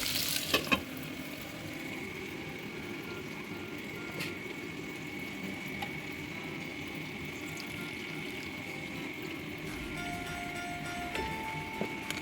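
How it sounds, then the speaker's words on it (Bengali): Potato pieces fry in oil in a pan for a fish-head dish, giving a steady close sizzle that runs unbroken throughout, with faint clinks and a brief tone near the end. "সেই আলুগুলোকে আমি ওই তেলটাতেই ভালো করে একটু লাল করে ভেজে নেবো"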